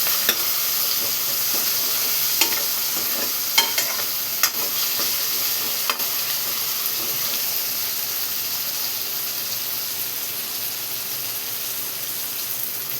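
Onion and tomato fry in a pan with salt while being stirred and mixed, giving a steady close hiss of sizzling with a few spatula scrapes early on, then an even sizzle with no talking.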